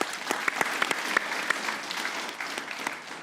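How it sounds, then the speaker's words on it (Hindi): A crowd claps steadily and briskly, a dense patter of applause at moderate distance that carries on without pause. "तालियां होनी चाहिए"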